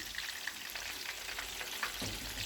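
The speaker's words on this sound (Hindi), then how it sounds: "कबाब अच्छे से फ्राई हो गए हैं" Kebabs frying in a pan on a home stove give a steady, close sizzle and crackle with scattered pops and a brief stir near the end, moderately quiet and with no talking.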